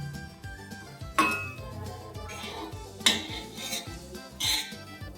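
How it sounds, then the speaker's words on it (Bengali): Maggi noodles stirred in a pan, a utensil scraping and clinking against the metal in a few distinct bursts over a soft background, with no talking. "এখন আমি একটু নড়িয়ে নেব"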